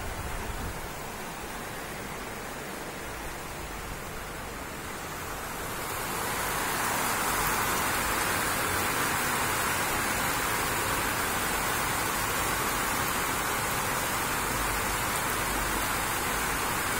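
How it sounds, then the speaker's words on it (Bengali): Steady rain falls and grows heavier after a few seconds, settling into a dense, even hiss of drops on surfaces that carries on without pause, with no talking. "বৃষ্টি পড়তেছে রে"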